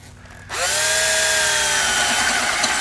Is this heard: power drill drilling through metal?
yes